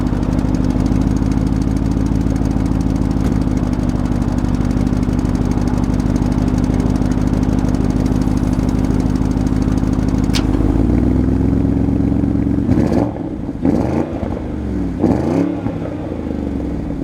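An Audi RSQ8 engine hums at a steady, loud idle for several seconds, then the tone shifts and surges unevenly as the SUV pulls away.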